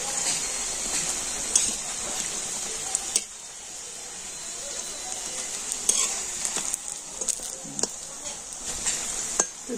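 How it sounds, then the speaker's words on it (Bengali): Cauliflower pieces fry as mock fish in hot mustard oil, hissing and sizzling steadily up close while a utensil clinks and scrapes the pan in scattered taps. "আর এখন আমি মাছগুলো ভেজে নেব।"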